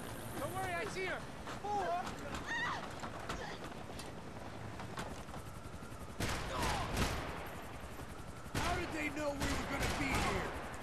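Gunfire in the shooter game Max Payne 3, repeated bursts of shots during a chaotic firefight near water, with voices shouting and talking throughout.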